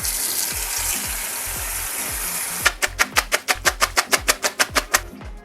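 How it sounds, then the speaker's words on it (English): Water draining off cooked egg noodles, a steady watery rush that gives way to a quick series of sharp, regular splashing pulses, close and fairly loud with no voices. "Drain the water off real quick."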